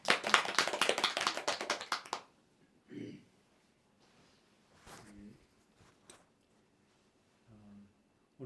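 A church congregation breaks into applause, a dense burst of many hands clapping for about two seconds before it abruptly stops, leaving near silence with a few scattered faint sounds and brief voice fragments.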